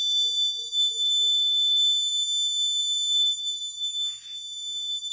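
An alarm buzzer from a vehicle accident detection system sounds as a steady, piercing high-pitched electronic tone held for several seconds, with a few faint low beeps early on.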